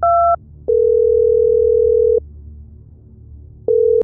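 A telephone line gives a brief two-tone beep, then a long steady single tone and another held tone after a pause, loud and clean, with no talking.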